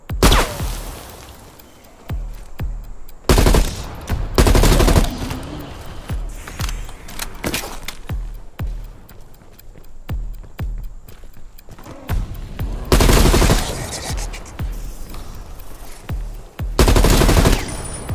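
Gunfire in Call of Duty Black Ops Cold War zombies mode on PS4 Pro, with several loud, close bursts of automatic fire and single shots spread across the stretch, separated by quieter gaps, and no voices.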